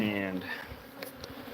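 Bees buzzing around the top of a strong beehive in an outyard, a steady close hum that is loudest at the start and then thins into softer scattered buzzing.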